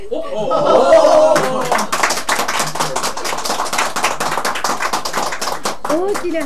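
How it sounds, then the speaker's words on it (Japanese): Loud, dense clapping from a small studio group rings out steadily for several seconds, with a short burst of excited voices at the start and some laughter mixed in. "大きな拍手が上がっている"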